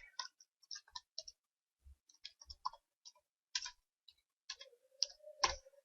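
A computer mouse clicks in quick, light, irregular taps in a quiet room, with one faint tone near the end.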